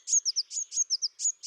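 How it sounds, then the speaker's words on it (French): Great tit song outdoors: a clear, high, repeated two-note phrase, bright whistled pulses in quick rhythmic series, fairly close, with no voices. "Oui, la mésange charbonnière."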